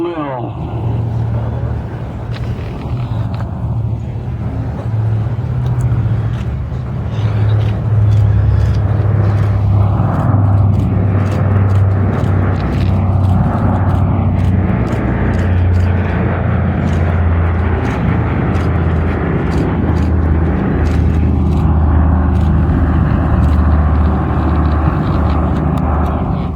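Diamond Lil, a vintage World War II bomber, roars past at an air show, its loud piston-engine drone swelling and holding steady over a crowd, fairly close and dominant throughout.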